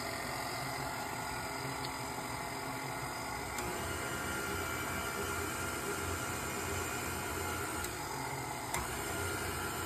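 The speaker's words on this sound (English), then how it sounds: "pop it into the mixer, lock your mixer, and with the dough hook," A stand mixer works sourdough bread dough with a dough hook, a steady, even motor whir and hum with faint periodic clicks, continuing alone without pause.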